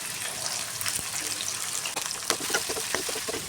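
Sliced onions and curry leaves sizzle in a pan for a Ballari onion gravy, giving a steady, close hiss and crackle of frying with a few small pops and no voices.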